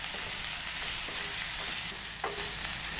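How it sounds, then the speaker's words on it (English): Onions sizzling in hot oil in a pan, a steady close frying hiss with a few faint clicks and scrapes over three seconds, no voices. "Once the oil is hot, let's add the onions."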